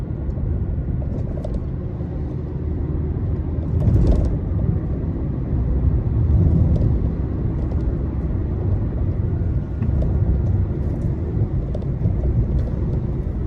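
A Citroen C3 1.4 VTi with a semi-automatic gearbox drives along roads in Beykoz, giving a steady low engine drone and road rumble inside the cabin, with a few faint clicks and no talking.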